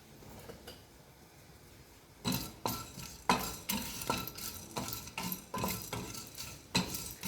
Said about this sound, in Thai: คั่วจนกระทั่งเราได้กลิ่น หอมขึ้นมานะคะถึงหยุด